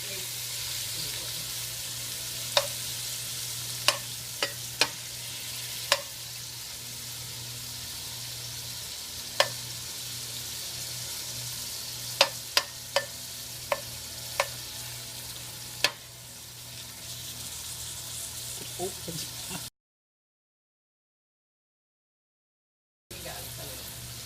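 Tomatoes and onions sauté in about two and a half tablespoons of hot oil for a curry, with a steady soft sizzle and sharp clinks of a utensil against the pan, then a sudden drop to silence before the sizzle returns.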